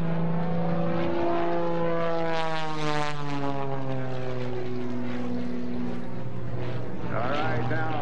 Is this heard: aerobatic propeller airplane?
yes